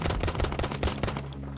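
Rapid gunfire from Battlefield V, a dense run of automatic bursts and single cracks close by, steady and loud for most of the stretch before thinning toward the end, with no talking.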